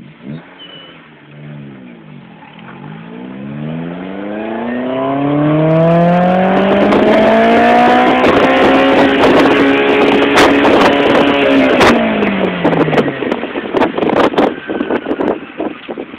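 A Honda-style VTEC car engine revs hard while reversing, its pitch sweeping up and down in several long climbs before peaking into a loud, sustained wail with sharp crackles near the end, heard close with no talk.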